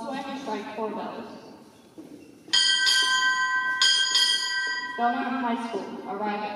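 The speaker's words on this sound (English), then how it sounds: "Boatswain and strike four bells." A ship's bell rings four times in two close pairs during a naval ceremony, the strikes clear and ringing, with a voice talking through a loudspeaker before and after.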